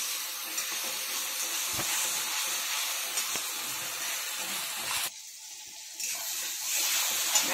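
Ginger-garlic paste and onion fry in a pan, giving a steady hiss and sizzle with a few sharp clicks. The sizzle drops out briefly near the end, then comes back.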